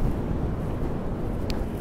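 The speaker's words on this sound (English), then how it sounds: "Wow, that is windy." Strong seafront wind at Blackpool buffets loudly and continuously, a dense low roar with gusty rumble close to the microphone.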